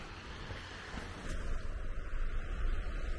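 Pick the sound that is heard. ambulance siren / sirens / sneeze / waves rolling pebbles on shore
waves rolling pebbles on shore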